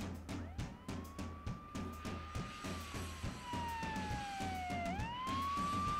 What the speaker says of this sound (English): Should have at least waited till he got around the block to turn the sirens on